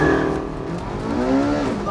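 Porsche 918 four-wheel-drive supercar launching off the line in a race against a motorbike, a loud sustained engine roar with rising revs, with voices faintly under it.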